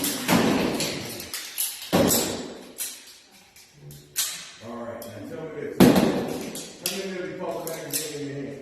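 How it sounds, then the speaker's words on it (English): A pistol slide is released and snaps forward, with several sharp metallic clacks and thuds spaced a second or two apart at close range, and someone speaking between them. "Let that slide go just like a swing."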